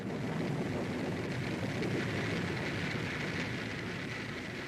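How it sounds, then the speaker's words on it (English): Steady rain sound effect for a radio drama, a continuous dense hiss of falling water that holds even and fairly loud throughout with no voices. "the sound of rain"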